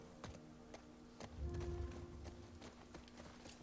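Horse hooves clip-clop at a walking pace in The Last of Us Part II, sharp faint taps recurring irregularly over a low ambient bed, with no talk.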